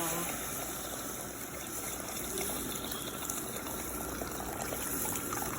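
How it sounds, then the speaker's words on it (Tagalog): Water pours steadily into a cooking pot while making kabsa, a continuous close gush that runs unbroken for several seconds with no talk over it. "lagyan natin siya ng tubig. Yan siya, lagyan natin ng tubig kasi white salsa"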